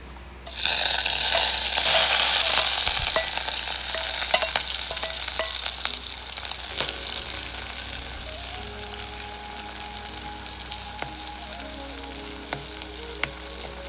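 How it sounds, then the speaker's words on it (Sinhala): Banana blossom with rampe and curry leaves drops into hot oil with a loud burst of sizzling, then settles into steady crackling frying with occasional pops and stirring, no voices. "දැන් ඉතින් තෙල් එක රත් වෙන්න ලිපේ තියලා හොඳින් රත් වුණාට පස්සේ අපි එකතු කරගමු අර රම්පේ කඩපිංචා ඒ ටික"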